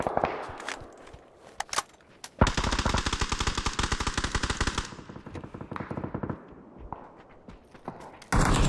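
PUBG video game gunfire on the Erangel map: a long automatic burst of rapid shots, then scattered single shots, with another loud burst at the end, close and sharp with no talking.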